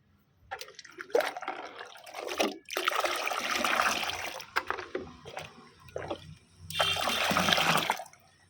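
Water stirred by hand to dissolve fertilizer powder for hibiscus plants, heard as close bursts of splashing and sloshing with short pauses between strokes.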